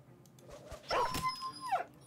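A dog in a Battle Brothers video game battle with the Legends mod gives a whimpering yelp and a drawn-out whine, fairly close and clear over low game background.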